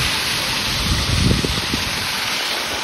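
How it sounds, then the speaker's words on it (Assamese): Water pouring down like a waterfall on Surjo Pahar hill in Goalpara, a loud continuous rushing wash with a brief low rumble near the middle. "ঝৰ্ণাৰ নিচিনাকৈ পানী পৰি আছে"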